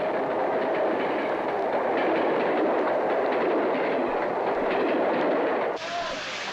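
A train rushes past close by with a loud, continuous roar and rattling wheels, then cuts off abruptly near the end.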